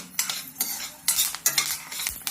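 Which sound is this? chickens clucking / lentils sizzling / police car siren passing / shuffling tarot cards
lentils sizzling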